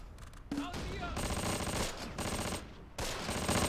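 Sustained bursts of automatic gunfire and scattered shots from the World War II tactical video game Close Combat Panthers in the Fog, dense and loud, with rattling volleys that pause briefly and then resume.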